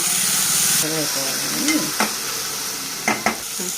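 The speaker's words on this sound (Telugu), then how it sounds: "అల్లం వెల్లుల్లి పేస్ట్ పచ్చివాసన పోయేంత వరకు వేయించుకుందాం" Ginger garlic paste fries in a pan with curry leaves and coriander for a gongura moong dal khichdi, giving a steady soft sizzle with a few sharp scraping and clanking stirs, while a voice speaks briefly at the start.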